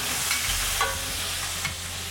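Tomatoes, garlic and capers fry in a pan for prawn tomato pasta, a steady close hiss and crackle with a couple of soft stirring scrapes, no voices.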